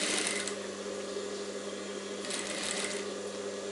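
A sewing machine runs continuously while stitching the lining of a princess-cut blouse, a steady fast whirring rattle close by with no pauses and no talk.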